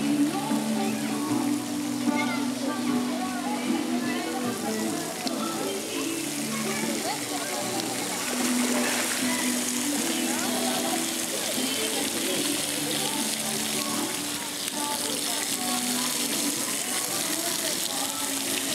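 Water in a seawater thermal pool laps and splashes continuously at close range, a steady wash under people chatting nearby.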